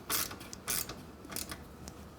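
A 13mm wrench tightens the stock exhaust nut on a Triumph Speed 400 while fitting a Predator carbon exhaust: three or four short, quiet metallic clicks and scrapes spaced in an uneven rhythm, close by, with no talking.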